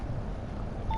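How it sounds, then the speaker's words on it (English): A short electronic safety-system beep from a tunnel boring machine in the train simulator game Train Sim World 2, a single steady tone near the end over a low rumbling cab background. "Beep, TBM is working, that's nice, that's very reassuring."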